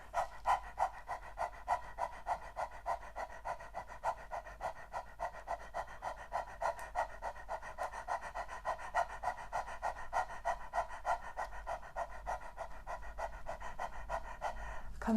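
Rapid rhythmic panting breaths from a yoga breathing exercise, steady and close throughout, with no talking.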